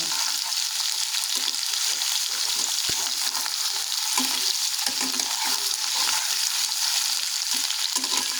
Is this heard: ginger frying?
yes